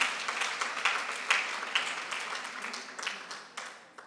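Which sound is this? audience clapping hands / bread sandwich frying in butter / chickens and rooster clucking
audience clapping hands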